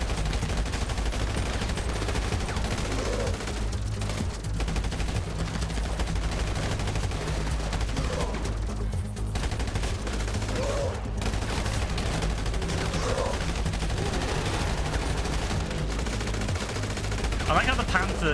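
Dense machine gun fire in the game GTA Online during a Cayo Perico session, rapid continuous bursts over a loud sustained mix of game sound and music, with players chatting over it.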